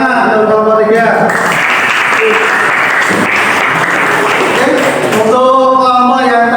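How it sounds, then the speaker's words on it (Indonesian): A classroom applauds a student presentation group, loud, close clapping from many hands filling the middle stretch, while a person speaks before and after the clapping and partly over it. "tepuk tangan untuk kelompok 3"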